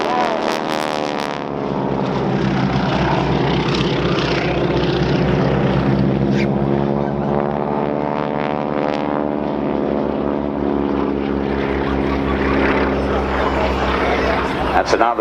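Breitling wingwalking team's propeller aircraft flying aerobatic back-to-back maneuvers at the Dunsfold Wings & Wheels airshow, a loud, steady engine drone that holds throughout.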